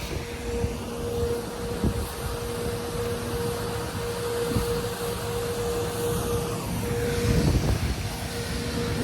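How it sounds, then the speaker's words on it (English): Street sweeper passing along a city street in the Philippines, a steady droning engine and brush whir with a constant hum, swelling slightly as it moves by, heard alone at moderate distance. "now we got some street sweeper coming by."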